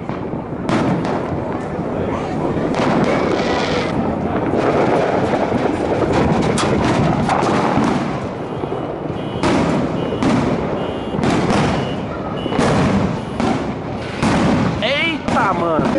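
New Year's fireworks going off nonstop, dense crackling bursts and sharp bangs overlapping in a loud, continuous barrage, with a few whistling rockets near the end and people talking underneath.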